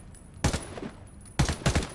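Gunfire in Call of Duty: Modern Warfare II, heard as two loud bursts of rapid automatic shots about a second apart, with quieter shots in between.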